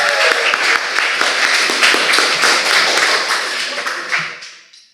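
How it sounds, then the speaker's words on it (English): An audience at a Hart House Debating Club opening-night debate claps for the speakers, with steady, dense applause for several seconds before it thins and fades out. "let's hear a round of applause for our speakers"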